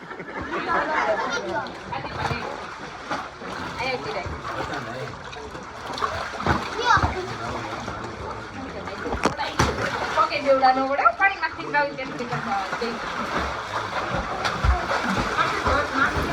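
Water splashing and churning in a wave pool as the waves start, a constant wash of splatter and sloshing under loud crowd chatter and shouting voices, busy and near throughout.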